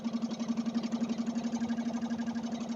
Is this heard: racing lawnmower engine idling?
yes